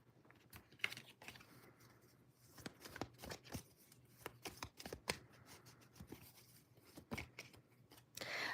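Tarot cards shuffled by hand, quiet crisp riffling and tapping in irregular bursts, close but faint, with no talk.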